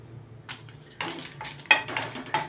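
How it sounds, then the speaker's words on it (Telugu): Dried red chillies dropped into a pan for roasting while making Chettinad paneer curry, a few light clattering taps and scrapes spread over a couple of seconds above a faint low hum. "ఎండుమిరపకాయలు వేసేసుకుందాం."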